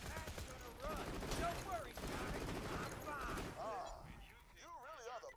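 Continuous Borderlands 2 gunfire during a firefight, dense and loud rapid shots overlapping throughout, with someone talking over the shooting and faint game music or effects toward the end.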